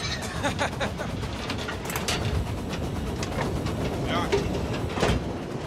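A railway locomotive rolls along the track, a steady low rumble with faint clatter running throughout, set in Senegal among railway workers, with a voice faintly present.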